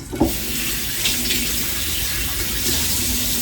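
Tap water runs steadily over bell peppers as they are washed in a sink, a continuous close splashing flow heard alone with no voices.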